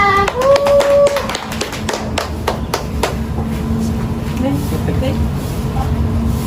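A school event audience claps in a loose burst of sharp, uneven hand claps that thins after a few seconds, with a voice and crowd noise underneath.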